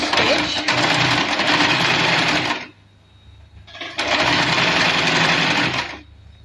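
Sewing machine stitching piping onto kurti fabric, a loud, steady mechanical whir in two long bursts separated by a short pause.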